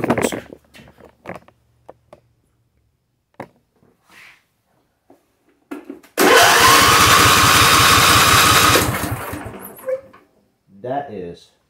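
A John Deere D170 lawn tractor engine cranks over during a compression test, a loud steady rhythmic churning for about three seconds after scattered tool clinks, then brief speech.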